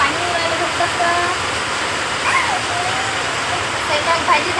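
Rainwater pours and leaks into a house during a thunderstorm. The rushing, splashing flow is loud and continuous, and faint voices sit beneath the water.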